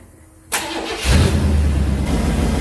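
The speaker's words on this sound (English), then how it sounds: "We're going to start it up and see if the belt spins okay." Chevy C/K 1500 pickup engine, model years 88-98, cranking briefly and catching, then settling into a loud, steady close idle.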